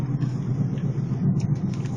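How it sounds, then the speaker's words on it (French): BMW E36 running with an aftermarket exhaust and a completely worn-out rear wheel bearing, a steady low rumbling drone close by with a slight rhythmic throb, no voices. "Ce qu'on entend distinctement, c'est l'échappement de kéké qui est en place, mais surtout le roulement de roue arrière qui est complètement mort."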